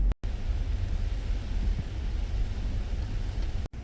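Steady rain falling outdoors in Florida, a continuous broadband hiss with low rumble, close and even throughout with no talk.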